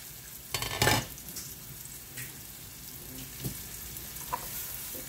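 Vegetables tipped into a pot of vegetable khichuri with red chillies, giving a soft sizzle and a few stirring clatters early on, then a low steady frying hiss with small knocks.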